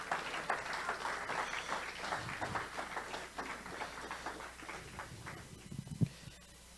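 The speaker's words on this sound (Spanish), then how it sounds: "Denle un aplauso al Señor." Congregation clapping in a Spanish-language church service, faint and somewhat distant, a loose patter of hands that thins out toward the end with a single louder knock.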